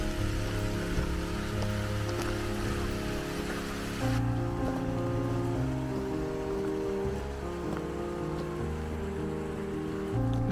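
Small waterfalls on a Lake District hillside in Cumbria give a steady, broadband rush of falling water that runs unbroken throughout, fairly loud and close.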